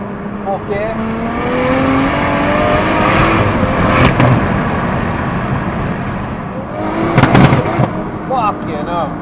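A tuned BMW M140i with about 880 bhp revs hard against the rev limiter, a loud continuous engine roar with stuttering cut-outs and crackles, heard from inside the car while occupants talk.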